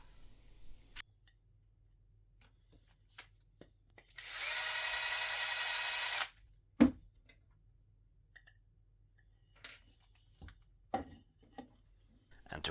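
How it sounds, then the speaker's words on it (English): A power drill countersinks screw holes in birdhouse wood, giving one steady whirring burst of about two seconds, followed by scattered light taps and knocks in a quiet workshop. "Now I'm countersinking the holes so that the screws will go all the way down"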